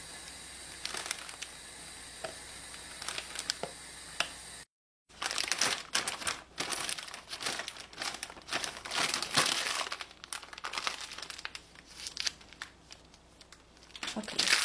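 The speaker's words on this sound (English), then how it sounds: "So I'm going to fill my batter" A thick Ziploc plastic bag crinkles and crackles loudly as it is handled and filled with jalebi batter, the crinkling in busy bursts with a brief dropout midway.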